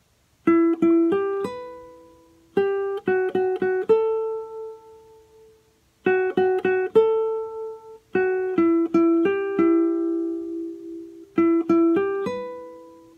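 Charango and guitar play the full melodic phrase of an Andean song, quick plucked strummed groups separated by short pauses, each group ending on a sustained ringing note, alone and close.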